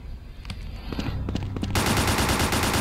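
Gunfire in the strategy game Dawn of War: scattered shots give way to a loud, dense, continuous burst of automatic fire filling the last second, with no talk.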